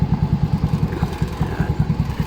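A Yamaha Mio 125 motorcycle engine runs nearby with a steady, rapid putter that stays at a constant idle-like pace.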